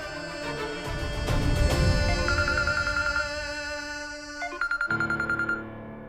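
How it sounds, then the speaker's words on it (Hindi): A phone rings with a bright electronic melody, repeating chirpy tones that cut off abruptly near the end. "कहना का फोन, इसे पता चल गया होगा कि मैं घर पे नहीं हूं।"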